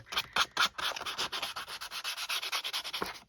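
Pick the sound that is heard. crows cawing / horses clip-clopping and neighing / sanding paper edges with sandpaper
sanding paper edges with sandpaper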